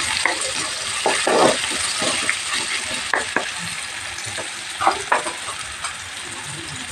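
Green chillies frying in a pan for a potato curry, a steady close sizzle and hiss with occasional stirring scrapes and small pops.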